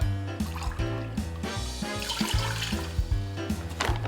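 A cup of water pouring into a container, a steady close trickle and gurgle running throughout over a low background hum, with no voices.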